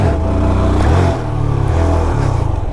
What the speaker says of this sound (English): there we go for 2 attempts with the clutch dump